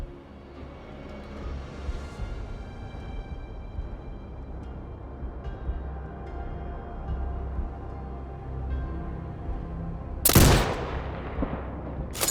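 Rifle fire from the video game Sniper Ghost Warrior Contracts 2: one sharp, loud shot cracks out near the end over a low, steady ambient rumble, with a fainter report trailing it.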